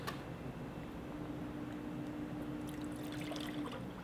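Water poured from a 28-ounce tomato can into a cooking pot for stuffed cabbage, a soft continuous trickle and splash that is fairly faint and steady throughout.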